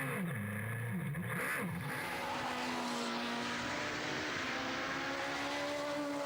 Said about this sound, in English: will then ultimately fire the car back into life and continue